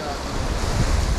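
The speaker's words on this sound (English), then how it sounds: "Rain are blowing on the lens, guy." Rain and wind buffet a camera lens during a rainy-day spearfishing outing in Jamaica, making a steady, dense rushing roar across the whole clip with no clear breaks.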